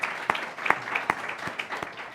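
An audience at a business pitch event applauds, a brief burst of scattered hand claps with distinct sharp slaps rather than a dense roar, moderately loud and close.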